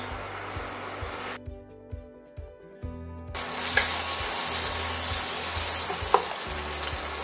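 Food grills in a pan for a rillettes parmentier, a close, bright sizzle broken by a quieter pause, then returning louder alongside regular soft knocks of the pan or utensil, with no speech.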